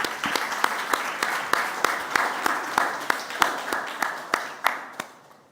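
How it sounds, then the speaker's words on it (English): Audience applauds the panelists at the close of a youth climate leadership panel, a sparse round of distinct, spaced claps over a soft crowd wash, fading at the end. "a big round of applause again for all our panelists"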